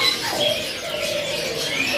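A zebra dove of the prized mangkok perkutut type coos in a steady, drawn-out tone, with faint chirps from other birds mixed in behind it.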